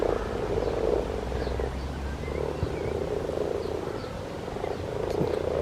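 Dense chorus of many frogs croaking together in a garden pond, a steady overlapping rattle that holds at an even level throughout with no voices.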